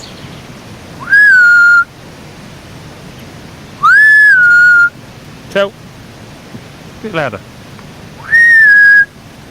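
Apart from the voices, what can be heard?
whistling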